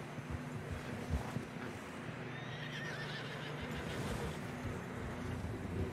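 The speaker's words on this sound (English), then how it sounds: "Horses are getting tired." Horses in Red Dead Redemption 2 whinny and plod through fresh snow, with soft hoof clops and faint wind around them, all fairly quiet and continuous.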